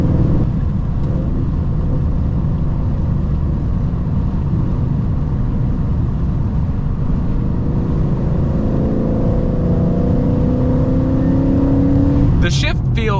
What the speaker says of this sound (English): get you a little bit of driving the S197 through some curves